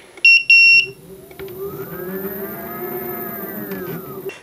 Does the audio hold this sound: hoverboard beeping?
yes